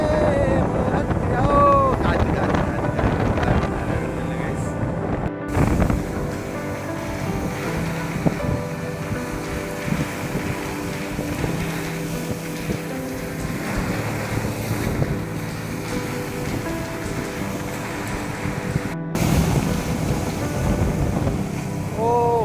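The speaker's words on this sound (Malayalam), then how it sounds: "കാറ്റ് കാറ്റ് കാറ്റ് കാറ്റ് വീണ്ടും വീണ്ടും കാറ്റ് ആണ്" Strong wind buffets the microphone over rolling sea waves and a fishing boat's drone at a river mouth, with voices talking intermittently.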